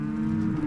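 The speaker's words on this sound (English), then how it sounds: "These cows got in here" A Mashona bull in a pasture gives one low, drawn-out moo, close and steady for under a second with no voices.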